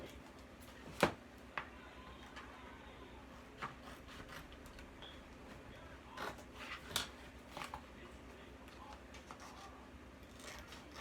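Scissors cutting a small piece of embroidery fabric for a pony appliqué, a few quiet snips and sliding rubs spread out over a low room background, close and without talk.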